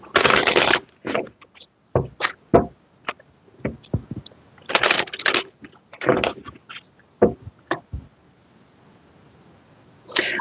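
Tarot money cards are shuffled close up in repeated crisp riffling bursts and scattered card snaps, with quieter handling sounds and pauses between them.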